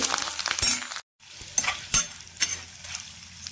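Green chillies, dried red chillies, cashews and curry leaves sizzling in oil for a tempering, stirred with a metal spoon that scrapes and clinks in a few short strokes, moderately faint with a brief gap.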